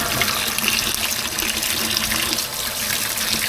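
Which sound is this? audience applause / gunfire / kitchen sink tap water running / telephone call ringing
kitchen sink tap water running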